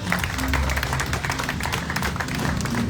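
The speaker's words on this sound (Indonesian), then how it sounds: "Boleh kita minta tepuk tangannya sekali lagi dong?" Sustained applause from an audience at a store opening, a dense wash of many hands clapping steadily and fairly loud throughout.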